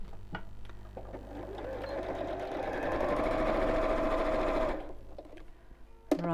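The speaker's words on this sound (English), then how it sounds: "I'm just going to sew these right sides together and leave a gap in the long side" A sewing machine stitches two pieces of fabric with right sides together, a steady close whirring run that builds for several seconds and then stops, followed by a brief click.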